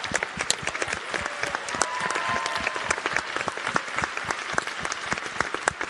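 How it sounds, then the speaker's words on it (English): An audience at the IAS 2018 conference gives dense, sustained applause for youth participants, many hands clapping steadily and fairly close throughout. "Big round of applause."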